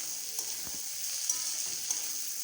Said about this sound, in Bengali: এরপর আবারও কিছুক্ষণ ভালো করে নেড়ে চেড়ে ভেজে নিতে হবে।